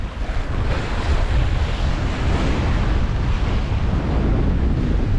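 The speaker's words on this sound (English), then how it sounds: "It's pretty windy still." Sailboat underway off the end of the Isle of Arran toward Campbeltown, with wind against tide: loud, constant wind buffeting the microphone over rushing wave wash and spray, steady throughout with no voices.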